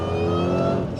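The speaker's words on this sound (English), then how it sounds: "You guys didn't think I'd actually leave you hanging without a bunch of exhaust clips at the end of the video." A Terminator Cobra with a new intake and exhaust holds a steady, loud engine drone, rich and throaty, for a brief moment with no talk.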